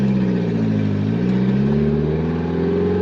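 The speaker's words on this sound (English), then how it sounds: "Let me show you what it's like to drive. This is first gear, of course." A Mitsubishi Pajero Mini's small engine pulls in first gear, a steady close buzzing drone that dips briefly, then rises smoothly in pitch as it revs up, loud and continuous with no talking.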